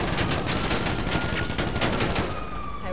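Gunfire in the video game GTA 5: a dense, continuous stream of rapid shots fills the whole stretch loudly, with a faint siren-like tone emerging near the end.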